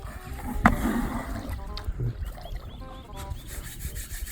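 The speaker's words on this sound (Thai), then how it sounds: "ขัดทราย" Sandpaper scrubbing against a surface produces rough, uneven rubbing strokes with a gritty texture, heard close by while people talk over it.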